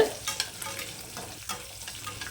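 Garlic and green chili fry in a pan with a low, steady sizzle, broken by occasional stirring scrapes close by, while cooking drumstick flowers.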